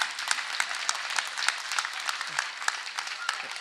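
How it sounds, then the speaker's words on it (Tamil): Audience applauding during a political speech in Karaikudi, a short burst of dense crowd clapping with sharp individual claps standing out. "நீங்கள் கைத்தட்டி என்ன மாட்டி விட்டுறாதீங்க."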